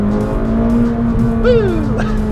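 A 2018 McLaren 570GT with a turbocharged engine, accelerating hard, its engine note loud and close as the pitch sweeps upward with a gear change.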